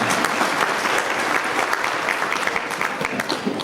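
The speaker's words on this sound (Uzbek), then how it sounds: "Mana shu qarsaklar yana bir bor siz uchun onajon rahmat aytaman" An audience claps at a university's third-anniversary jubilee ceremony, producing dense, continuous applause from many hands at moderate level, evenly sustained for a few seconds with no voices standing out.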